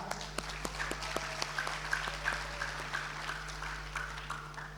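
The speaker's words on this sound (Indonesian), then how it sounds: "Kita beri aplaus yang meriah" Audience clapping at a school graduation send-off ceremony for twelfth-grade students, scattered claps building into steady applause in a large hall with a constant electrical hum underneath, no talk.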